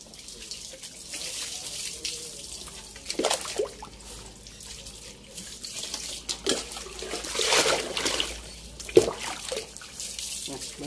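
Water pours and splashes from a tap during a bath for shih tzu dogs, in uneven gushes and trickles up close, with people talking over it.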